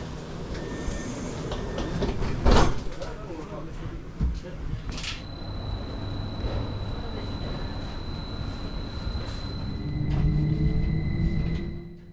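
A passenger train departs, rumbling and rolling with steady clattering, a few squeals and clanks along the way, and voices murmur faintly in the background.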